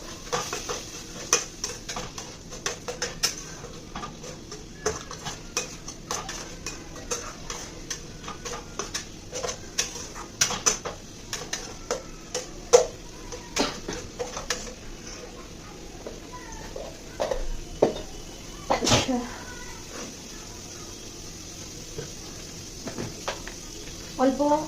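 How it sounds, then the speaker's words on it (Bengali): A spoon stirring and mixing a sauce of soy sauce and kewra water in a bowl, a string of small clinks and taps against the dish, close and light, with a person talking over it. "ভালো করে মিক্স করে নেবো।"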